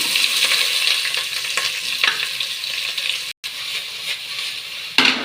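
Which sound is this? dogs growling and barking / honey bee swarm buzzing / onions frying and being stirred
onions frying and being stirred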